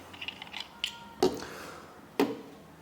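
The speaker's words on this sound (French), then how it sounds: "On dévisse à nouveau l'atomiseur." A vape atomizer is unscrewed: a few quiet ratcheting clicks followed by two sharp, distinct metallic snaps with brief ringing, close and isolated in a quiet room.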